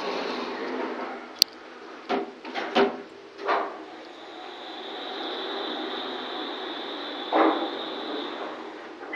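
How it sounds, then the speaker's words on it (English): A generic machine-room-less elevator door slides shut, with several soft clunks and thuds over a steady motor hum, then a later bump as the car settles; no one speaks. "door closing."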